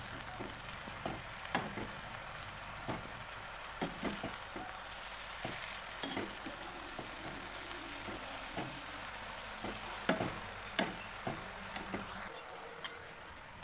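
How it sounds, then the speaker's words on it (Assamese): Jilmil greens frying in a pan with salt and turmeric, a soft steady sizzle under intermittent ticking scrapes and taps from stirring. "আৰু এতিয়া লৰাই লৈছোঁ।"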